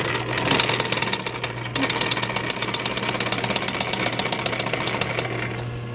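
A sewing machine stitches a headrest reinforced with Duratex, running loud and close with a steady rapid mechanical chatter, briefly easing near the start before continuing without pause.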